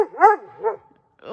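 A dog barks twice close by, with short sharp yelps, a brief pause and then the start of a third bark, outdoors at an off-grid homestead in Maine.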